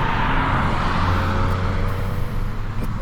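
Inside a moving Volkswagen GLI, a steady engine drone and low rumble continue throughout with constant road noise, fairly loud and close, and no talking.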